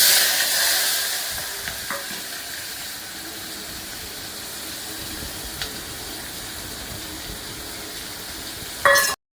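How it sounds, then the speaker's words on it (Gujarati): Cowpea vegetable curry being tempered in a pan, a continuous close sizzle and hiss of frying with occasional stirring clicks, loud at first then settling into a steady crackle, ending with a brief louder burst. "ચોરીનું શાક વઘારે છે મારી મમ્મી"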